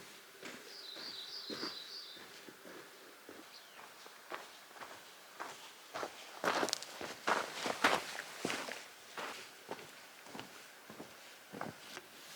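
Footsteps crunching through a canyon, a steady series of scuffing steps on rough ground, close and uneven, with a bird trilling briefly near the start.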